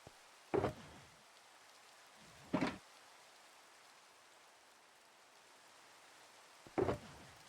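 Minecraft rain falls as a faint, steady hiss throughout, broken by three sharp, brief bursts of louder noise spaced several seconds apart.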